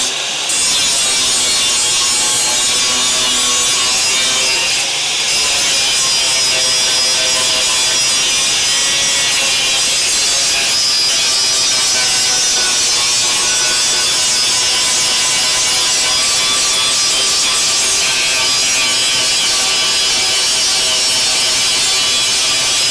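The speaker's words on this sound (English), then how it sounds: "I'm just going a little bit slower with the grinder here now because I don't want to blow through anywhere" A grinder works steadily on the bodywork of a Charger crew cab conversion, a loud continuous abrasive whine with a brief dip near the five-second mark, running alone without any talk.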